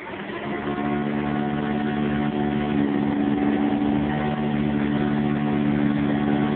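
A Sanitaire upright vacuum cleaner with a Vibra-Groomer runs steadily indoors, a loud, close, even motor hum with a low droning whine that holds unchanged throughout, with no talking.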